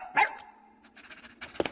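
A dog gives a couple of short barks, a loud close bark at the start followed by fainter yips, all brief and without talk.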